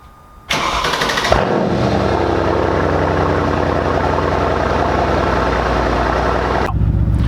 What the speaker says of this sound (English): Let's get a cold start for all the car people that are still here.